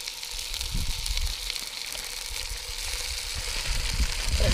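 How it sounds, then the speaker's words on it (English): Pork chops frying in olive oil in a Dutch oven at a campsite, a soft continuous hiss and crackle heard fairly faintly at close range. "Sizzle, sizzle."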